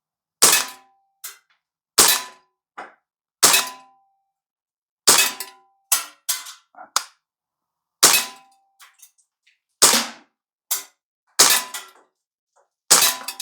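A Sig Sauer MCX Rattler CO2 BB rifle fires at metal targets outdoors, sharp pops each followed by a ringing metallic clang, about a dozen shots in irregular bursts with brief pauses, close and loud, with no talking.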